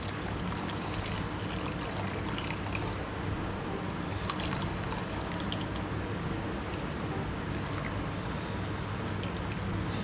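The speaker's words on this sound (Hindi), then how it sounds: "इसको यूँ डालते रहेंगे और साथ हिलाते रहेंगे।" Cornflour slurry poured into a pot of Kathiyawari chole while stirring, a steady soft liquid trickle and squishy bubbling that runs evenly throughout, faint and close.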